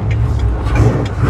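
A 1967 Camaro hot rod with a 4-speed runs close by, its engine idling roughly with short revs in a brief, loud burst.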